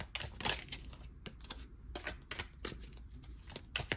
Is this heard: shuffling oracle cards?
yes